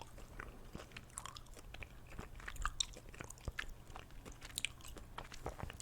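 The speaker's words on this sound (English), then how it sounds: "Some amazing ASMR gamers that gum chewing in the background" Gum chewing mouth sounds: close, soft wet clicks and smacks in an irregular rhythm, quiet and intimate with no talking.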